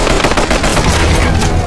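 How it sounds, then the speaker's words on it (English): Rapid machine gun fire, a dense, loud burst of overlapping shots with a fast rattling rhythm and no pause for the whole stretch. "They strafed Aatami with gunfire"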